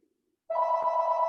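Telephone ringing during a baseball broadcasters' video call: a steady electronic ring begins after a brief silence and holds loud and continuous to the end.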